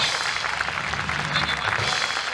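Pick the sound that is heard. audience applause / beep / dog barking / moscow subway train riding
audience applause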